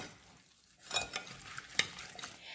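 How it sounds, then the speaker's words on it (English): Tofu kabob marinade for a Persian joojeh kebab is stirred together in a bowl, giving soft, quiet mixing sounds with a couple of brief utensil clinks. "so you're just gonna go ahead and mix that all together"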